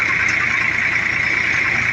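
A tractor engine runs steadily in the open, giving a loud, continuous drone with a constant rumble and an even mid-pitched whine that does not vary, with no voices heard.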